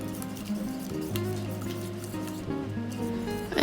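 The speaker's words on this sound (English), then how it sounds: "you can use an egg beater like me and start to stir it to make it mix evenly" An egg beater stirs a lemon cheesecake mixture in a bowl with soft, repeated swishing and scraping. The sound stays fairly quiet and close against a faint background of music.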